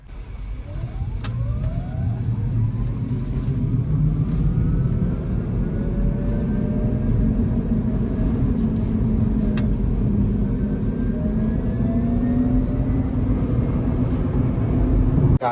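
A Rivian R1T electric pickup's motors whine with a rising and falling whistle while driving, layered over steady road and tire rumble from inside the cabin.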